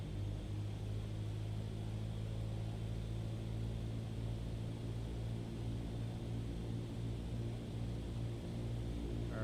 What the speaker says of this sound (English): I'm going to go ahead and bring the power back around 1500 RPM and flaps 10.